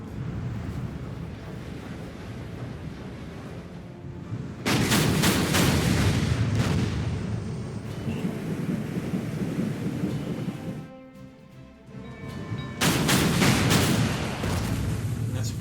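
Naval combat in the Order of Battle video game, with heavy artillery and mortar fire rolling as long, thunderous booms that swell, fade and return, loud and continuous over a rumbling background.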